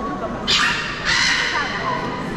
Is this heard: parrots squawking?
yes